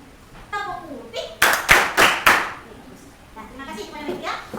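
Children in a classroom clap along to a chanted clapping game, a short burst of about five loud, distinct hand claps in quick succession, framed by children's voices speaking before and after.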